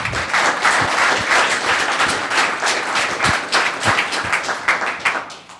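An audience applauds at a Los Gatos town council meeting, a steady, close round of clapping that lasts several seconds and tapers slightly at the end.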